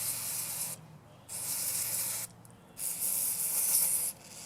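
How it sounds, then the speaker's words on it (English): Electronic contact cleaner sprays onto the connectors of a riding lawn mower in three bursts of close, steady hissing separated by short pauses. "spray out these connectors in here"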